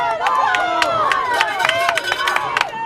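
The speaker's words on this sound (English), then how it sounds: "Hornet crowd getting into it now." A high school football crowd of Hornet fans cheers and shouts in a steady rumble, with whistles and scattered yells cutting through, fairly loud and close.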